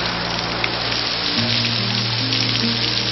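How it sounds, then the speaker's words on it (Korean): A sudden rain shower pours down as a dense, steady hiss, close and even throughout, with faint low tones in the background. "갑자기 웬 소나기야?"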